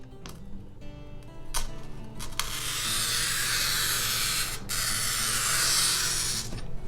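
An oil-dipped glass cutter scores a sheet of glass under firm pressure: after a few light taps, a long continuous hissing rasp runs for several seconds, close and even, with a brief break midway.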